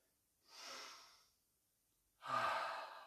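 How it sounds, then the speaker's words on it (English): Two deep breaths drawn during a yoga flow, each a close, airy rush of air, the second louder and fuller, separated by a short silence. "Nice big inhale"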